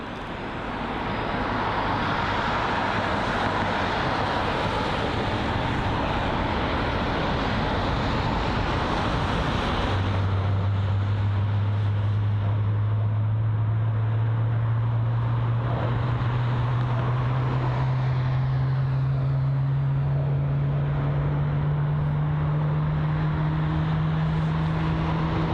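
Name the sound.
Air Canada Boeing 777-300 landing at London Heathrow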